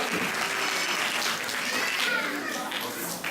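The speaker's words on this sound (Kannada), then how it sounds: "ಸೊ ನಿಮಗೆ ಆನ್ಸರ್ ಕರೆಕ್ಟ್ ಚಪ್ಪಾಳೆ ಇನ್ನೊಂದ್ಸಲ ಉಡಿಸ್ತೀವಿ" Audience applause at a quiz contest, a continuous wash of clapping from a crowd, with some children's voices mixed in.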